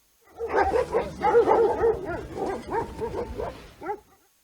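Street dogs bark, yelp and whimper continuously in an excited chorus, close and fairly loud, with rapid overlapping yips.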